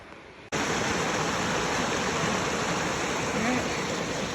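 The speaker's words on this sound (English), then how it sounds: "The waterfall's just over there." A waterfall near Glenwood Springs cuts in as a loud, dense, continuous roar of falling water that stays constant and fills the scene.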